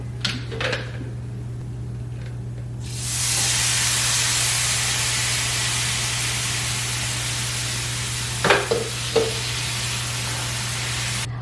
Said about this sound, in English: Now we're gonna go ahead and put in our green tomato sauce that we made earlier.